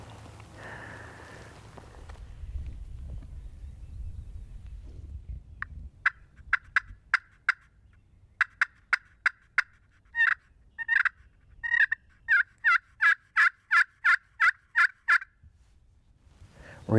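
Wild turkeys gobbling in open Kentucky woods, a run of sharp rapid gobble bursts in quick repeated bursts after a few quiet seconds of faint rustling, fairly close and loud against a still background.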